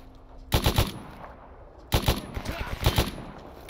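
Automatic gunfire in the shooter game Stalker Anomaly, two loud close bursts of rapid shots separated by a short pause, with faint background sound between them.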